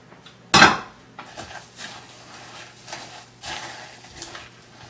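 A spoon scrapes and clinks against a bowl while Rice Krispies and pretzels are stirred into a peanut butter chocolate mixture, opening with one sharp clatter followed by softer, irregular crunchy scraping strokes.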